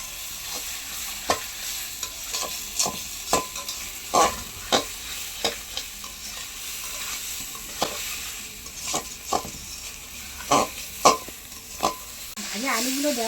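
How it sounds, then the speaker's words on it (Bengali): Fried potatoes sautéed in spiced oil in a pan, stirred with a spatula that scrapes and knocks in a steady series of sharp strokes over a constant sizzle, with faint talk near the end. "ভাজা আলুগুলো দেওয়ার পরে কিছুক্ষণ তো ভালো করে কষে নিয়েছি"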